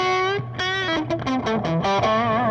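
Distorted electric guitar played through an amp with a souped-up Plexi-style tone, gritty chords and short riffs with almost no reverb tail, loud and close.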